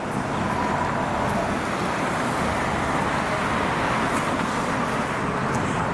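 Steady broadband roar of car traffic on a Philadelphia city street, with vehicles streaming toward the bridge to New Jersey, a continuous wash of road noise with no distinct passes.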